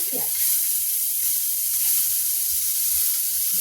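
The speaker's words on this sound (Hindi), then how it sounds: "तो अब देखिए इसमें हम डाल देते हैं इसकी प्याज" Chopped onion sizzles steadily in a hot pan of desi ghee while chaat is being made, a loud continuous frying hiss with faint stirring.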